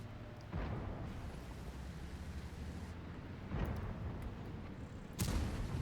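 Heavy tank cannon fire in a tank video game, T95/FV4201 gameplay: loud booming shots roughly every two seconds over a steady rumbling engine drone, with no talk.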